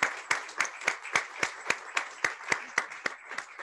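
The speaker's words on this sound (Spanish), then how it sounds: "Otro aplauso, por favor." Conference audience applauds in slow, evenly spaced claps, about four per second, crisp and moderately loud, with a steady rhythm like a group clapping in unison and no talking.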